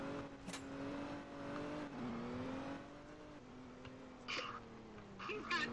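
A car driven in a video game while transporting a president, its engine droning and shifting pitch as it revs, with brief bursts of other game sounds near the end.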